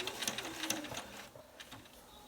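A sewing machine backstitching a few stitches on a cloth face mask: a quick rattling burst of needle strokes, close and fairly faint, then a softer second run after a brief lull.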